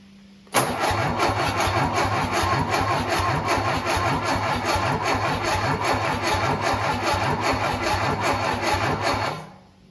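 An MGB engine pulled from a parts car cranks and fires up on a shop floor, running steadily and loud at close range for several seconds before cutting off.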